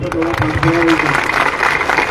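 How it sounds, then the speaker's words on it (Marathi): An audience at an outdoor rally gives dense, loud applause that swells and holds, with a voice audible over the clapping at the start. "तुम्हीच एकदा चांगल्या टाळ्या वाजा"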